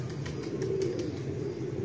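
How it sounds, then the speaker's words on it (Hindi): Pigeons of a prized flying breed settle after a flight, their soft low cooing steady and close throughout, with a few faint flutters above it and no talk. "एक बैठ गया चौथा और पंजवा कबूतर"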